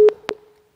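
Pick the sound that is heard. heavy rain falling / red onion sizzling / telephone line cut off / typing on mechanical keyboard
telephone line cut off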